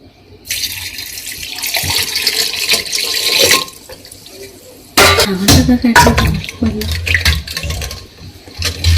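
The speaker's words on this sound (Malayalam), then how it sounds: "ഇനി നമുക്ക് ബാക്കി വെള്ളവും കൂടെ ഒഴിച്ചു കൊടുക്കാം" Water is poured into a sugar mixture for homemade rambutan wine, a steady splashing pour that stops midway, then resumes as louder, uneven gushing and sloshing close by.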